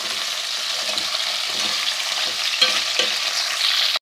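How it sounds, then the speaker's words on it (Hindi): Fish heads fry in a pan for a curry and are stirred, a steady loud sizzle with scraping stirring sounds close up and no talking. "तो 1 से 2 मिनट फ्राई करती हूँ।"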